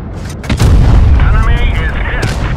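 Tank cannon fire in World of Tanks Blitz, a heavy boom at about half a second followed by a loud sustained rumble and ringing, with game sounds continuing underneath.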